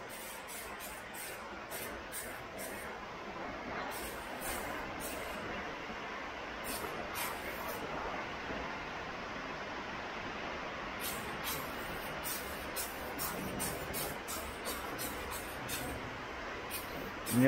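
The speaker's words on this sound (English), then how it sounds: "I'm gonna spray a little, just one coat of that on there." Steady hissing spray of adhesion promoter from an aerosol can onto 1978 El Camino SS parts, a continuous airy wash held for many seconds with faint clicks up top.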